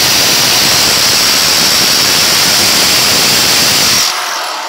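Electric drill boring a hole into a plaster ceiling to mount an LED light fixture, a loud continuous close whirring grind that cuts off abruptly near the end.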